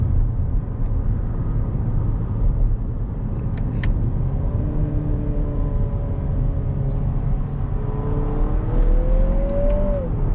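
Turbo engine of a 2024 Lexus NX 350 accelerating on the road, a steady rumbling drone inside the cabin with a rising tone as boost builds toward the end, no talking.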